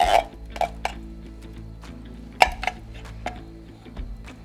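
A utensil clinks and scrapes against a pan while cheese is stirred into baked macaroni and cheese on a grill, giving sparse metallic taps and knocks in a quiet setting.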